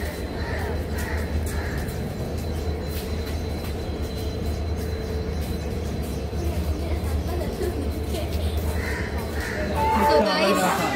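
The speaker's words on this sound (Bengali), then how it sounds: "আমাদের ট্রেন চলে এসেছে, আমরা ট্রেনে উঠে গেছি" Steady low rumble and clatter of a passenger train running from Santragachi to Digha, with muffled voices and onboard noise throughout, growing louder near the end.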